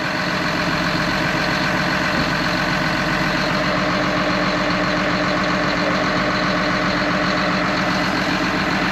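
A John Deere 850K bulldozer's diesel engine idles steadily with a constant low, rumbling throb, close and unchanging throughout.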